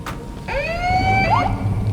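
A police car siren from the Dead Rising 3 video game wails with rising and falling tones over a low engine rumble, loud and close, with no talk.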